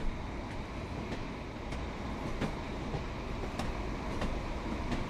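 A Class 101 diesel multiple unit rolls past in the simulator game Train Sim World 4 on the Preston to Blackpool North line, a steady rumble with rhythmic clicks of wheels over rail joints, moderately loud and alone.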